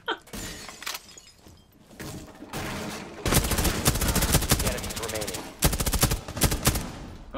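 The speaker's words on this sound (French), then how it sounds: "Et Marie qui tire" Rapid gunfire and shattering in Rainbow Six Siege Terrorist Hunt on the House map: scattered shots early, then a loud sustained burst of automatic fire with sharp cracks, with speech underneath.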